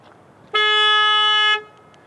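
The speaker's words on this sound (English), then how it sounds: "It has like a beepy horn" A 2020 Hyundai Venue SEL horn set off by the key fob panic button gives one loud, steady, beepy blast of about a second, close by, with faint background noise before and after.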